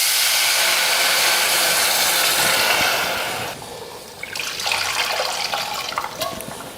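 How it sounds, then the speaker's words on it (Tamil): Tamarind water pours into a pan for rasam with a steady, loud liquid rush that cuts off partway through. A softer sizzling, splashing sound follows close by. "அந்த தண்ணியை அதில் சேர்த்துருவோம்."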